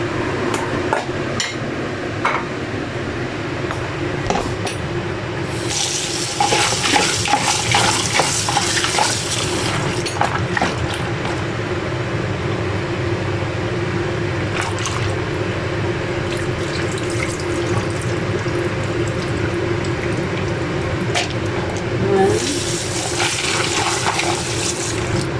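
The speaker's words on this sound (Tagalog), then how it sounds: "Ngayon po, huhugasan ko itong mga ingredients natin." Soup ingredients for a root, corn, carrot and dried seafood soup are rinsed under a running kitchen tap, with a steady stream of water broken by louder bursts of splashing and handling clatter.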